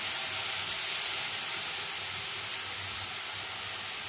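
A paste of cumin, coriander and chili hits a hot pan, giving a loud, even sizzling hiss that holds steady throughout with no voices.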